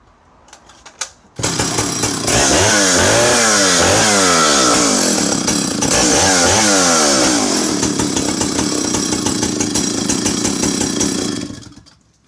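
A vintage Swedish Partner R12 90cc chainsaw starts with a sudden roar and runs loud and close for about ten seconds, its engine revving up and down in repeated swells before cutting off abruptly.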